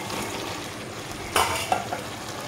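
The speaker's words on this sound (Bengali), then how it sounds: "তো ভালোভাবে আমি মশলার সাথে ভালোভাবে কষিয়ে নিব।" Vegetable biryani mix with biryani masala, homemade yogurt and fried potatoes is stirred and sautéed in a pan, a soft background sizzle broken by a couple of sharp spoon scrapes and clinks midway, with no voices.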